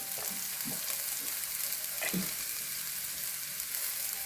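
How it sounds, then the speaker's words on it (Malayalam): Sprouted grains for a sundal sautéed in a pan with garam masala and pepper powder: a steady, low sizzle with a few soft stirring scrapes, close by and quiet, no speech. "നമ്മൾ ഗരം മസാലയും കുരുമുളക് പൊടിയും ഇട്ട് വഴറ്റണം."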